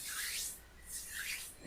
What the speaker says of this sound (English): Rubbing the palms together again.